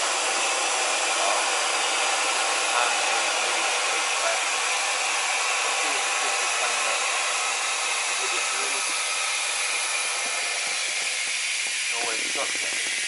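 Loud, continuous broadband hiss of compressed air from an air compressor feeding an air jack as it inflates under a Tacoma or Jeep, steady and close throughout with faint talk partly buried beneath it.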